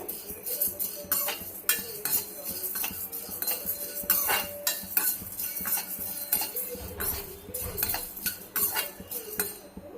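Whole spices dry roasting in an oil-free pan for moringa rice, with frequent metallic clinks and scrapes of a stirring spoon against the pan, close and busy throughout.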